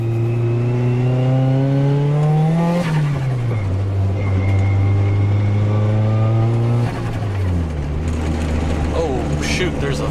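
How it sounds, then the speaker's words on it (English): A Nissan 180SX engine revs up through the RPM range in long, loud rising sweeps heard from inside the car, with pitch drops between gear changes and a steady drone throughout. "we'll open up a little bit here once the traffic clears and be able to test that through the RPM"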